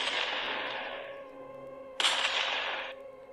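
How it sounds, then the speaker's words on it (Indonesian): A gunshot sound effect in a horror story: a sharp crack cuts in over a fading prior burst, with a bright ringing tail that decays over about a second, alone with no voice. "terdiam saat mendengar suara tembakan"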